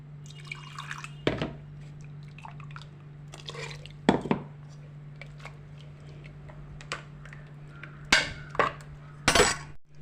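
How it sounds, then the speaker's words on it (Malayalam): Ground spice paste and water go into a pan in a home kitchen, heard as soft splashes, drips and scraping clatters spaced out over a steady low hum. "ഇനി നമുക്ക് ഈ അരപ്പ് ഇതിലേക്ക് പാർന്നു കൊടുക്കാം. കുറച്ച് വെള്ളവും കൂടി പാർന്നിട്ട്"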